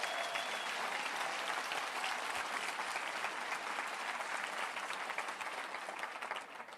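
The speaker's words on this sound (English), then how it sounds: "Give a big round of applause, please." An audience at a motivational talk gives a big round of applause: continuous, even clapping from many hands that stays fairly distant and quiet throughout.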